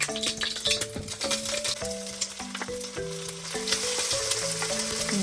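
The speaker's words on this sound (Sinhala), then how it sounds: "දැන් මේ බිත්තරේ සුදු මදේ බලන්න මම හොඳට කර කරනවා" Egg white with a pinch of salt sizzles and fries steadily in a pan, a dense continuous crackle, close and loud, with faint scraping of stirring over a background tone.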